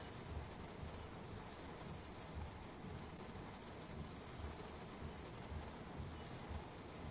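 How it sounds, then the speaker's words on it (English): Steady rain heard from inside a train cab in the Train Sim World 2 video game, a dense, even hiss with low rumble that stays loud and constant throughout, with no voices. "the rain inside the train is very loud"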